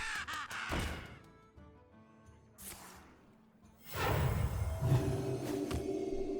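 A bird caws in the Hearthstone card game, a few harsh calls among whooshing game effects, followed by a louder swell of sound.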